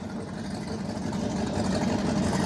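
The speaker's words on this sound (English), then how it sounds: "That is a loud freaking boat." Loud motorboat engine droning steadily on a river, a dense continuous mid-range roar close by with no voices over it.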